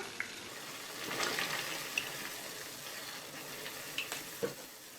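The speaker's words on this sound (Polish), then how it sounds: "Wodę wprowadzam w wir" Boiling salted water swirls and churns into a whirlpool in a pot as it is stirred, with a soft bubbling hiss and a few light clinks of utensil against metal.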